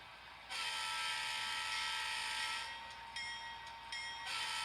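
Steady high-pitched horn blast from a small KCS model locomotive, sounding continuously with brief dips, close and fairly loud.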